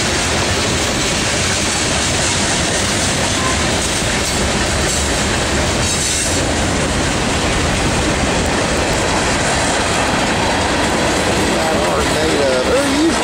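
A Norfolk Southern manifest freight train rolls steadily past nearby, a loud, continuous rumble of railcars with clickety-clack wheel beats and faint wheel squeal, unbroken for the whole stretch.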